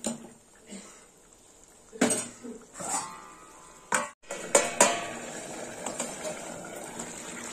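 A metal lid clanks onto a cooking pot of bottle gourd curry with fish head and potatoes, a few sharp clinks and knocks amid quieter kitchen clatter, close by with no talk.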